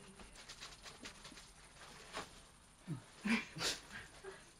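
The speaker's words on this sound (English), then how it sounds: "My dog, I guess." Dog sounds indoors: a few soft whimpers and breathy noises, faint and scattered, rising briefly to a couple of louder yelps near the end over a low room hum.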